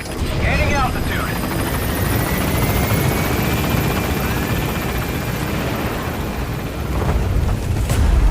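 A helicopter in Metal Gear Solid V lifts off with a loud, close, steady rotor roar that fills the whole stretch, while radio voices speak briefly over it.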